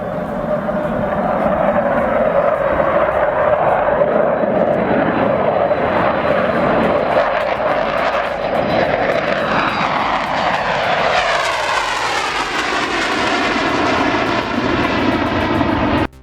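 An airplane takes off from a low-elevation strip, its engine loud and close, droning steadily before the pitch rises and harmonics climb as it powers away.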